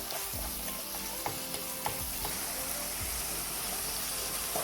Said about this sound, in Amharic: ካሮቴ ትንሽ ጠበስ ብሏል ስጋዬን እጨምራለሁኝ በደንብ አሸዋለሁ እንዳይያያዝ